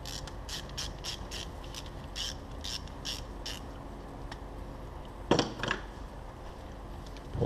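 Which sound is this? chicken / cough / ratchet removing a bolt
ratchet removing a bolt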